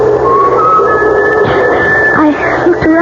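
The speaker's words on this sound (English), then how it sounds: "and then I heard someone whistling" An eerie whistled tune plays in an old radio mystery drama, wavering sustained tones that slide and shift over a steady hissy background, close and fairly loud.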